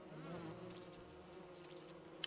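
Bees buzz steadily in the video game Don't Starve Together, a soft continuous drone with faint wavering, ending with a brief small chime-like blip.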